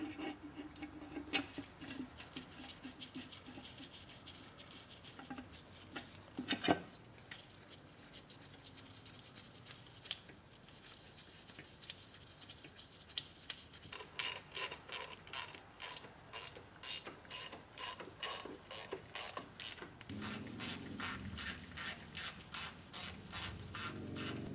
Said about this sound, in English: this ratchet seems a little bit excessive for what we're doing